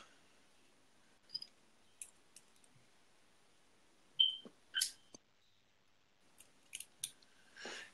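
Small screws are tightened on a vape RDA, giving faint, scattered metallic clicks and scrapes up close, a handful of brief isolated ticks across a quiet background.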